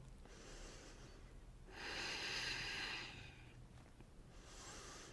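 A yoga instructor breathing while holding a plank, with a slow audible inhale and a louder exhale through the nose, close and faint, and no words spoken.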